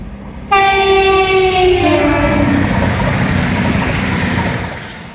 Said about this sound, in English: Ecstatic train! Lovely, lovely. What a toot that was, eh?